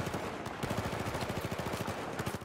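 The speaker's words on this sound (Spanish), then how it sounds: "Vale, disparando." Rapid automatic gunfire from Battlefield 4 gameplay on Xbox Series, a steady stream of close, loud shots in quick regular rhythm lasting throughout, with no voices over it.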